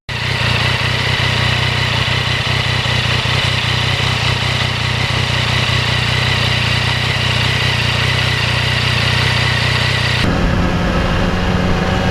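A 2020 Yamaha MT-09 motorcycle engine running steadily and loud up close, a dense continuous drone with an abrupt shift in tone near the end.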